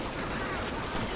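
Rapid gunfire in the zombie shooter Left 4 Dead 2, a brief dense burst of overlapping shots, loud and continuous for about a second.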